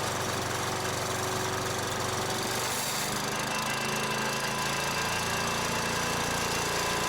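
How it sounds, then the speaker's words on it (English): A chipper shredder's small gas engine runs steadily with a rough, knocking drone and faint mechanical vibration, constant throughout at a moderate distance. "The engine started well, the drum spun up with minimal vibration and noise."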